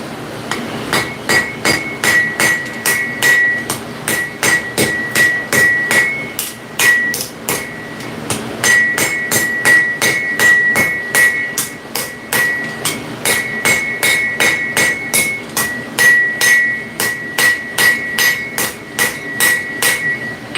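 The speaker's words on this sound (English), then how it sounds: "So the reason why I'm forging this the way that I'm forging it, I've got, this is going to be the cutting edge right here. I got that hanging off the edge of the anvil." Steady hammer blows ring out on an anvil as a blade is forged, its cutting edge hanging off the anvil's edge; loud, close, regular metallic strikes in quick runs with brief pauses, no talking.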